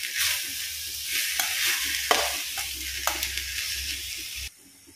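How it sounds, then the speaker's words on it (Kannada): Salted vegetables for a palya are stir-fried in oil in a pan, giving a steady close sizzle with repeated scraping stirs, before the sound cuts off abruptly near the end. "ಎಣ್ಣೆ ಜೊತೆ 1-2 ನಿಮಿಷ ಇದನ್ನು ಹೀಗೇನೆ ಮಿಕ್ಸ್ ಮಾಡುವ."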